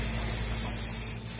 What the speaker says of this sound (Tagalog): dahan-dahan lang yung pag-sway ng spray can ko para mas maraming clear ang mailagay ko dito sa binubugahan ko